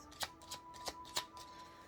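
Tarot cards are shuffled by hand in a quiet room, giving four or five soft riffling bursts at an uneven rhythm, faint and close, with no voices.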